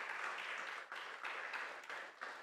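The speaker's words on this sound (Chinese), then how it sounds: "大家请鼓掌欢迎他们" A church congregation applauds children called up front during a Sunday worship service, steady clapping from a room full of people with a few brief dips, moderately distant.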